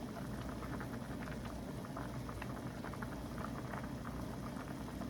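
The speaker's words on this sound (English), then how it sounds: "Okay, they're boiling." Water bubbles and simmers steadily in a pot of chicken and dumplings, a soft continuous gurgling with tiny popping sounds, quiet and close.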